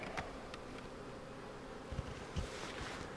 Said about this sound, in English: But the bees seem calm.